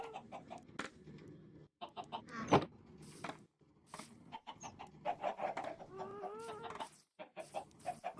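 Blocky Minecraft chickens cluck in short, separate bursts with brief pauses between them. The in-game sounds are moderately loud, with one sharper squawk about a third of the way through.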